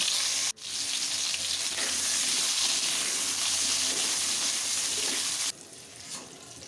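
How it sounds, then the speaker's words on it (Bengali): Kohlrabi fries in hot oil left from frying fish, bursting into a loud, dense sizzle right after a brief pause, then dropping to a quieter hiss at the end. "ওলকপি ভেজে নেব"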